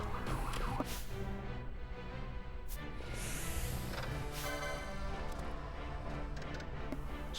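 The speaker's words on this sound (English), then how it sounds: "Stupid sirens." Emergency sirens wailing steadily in the distance, rising and falling continuously, loud enough to dominate the background.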